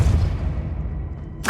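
A Depulso force spell cast in the Hogwarts Legacy video game, a heavy booming blast at the start that rumbles and fades away, followed by a sharp new burst at the very end.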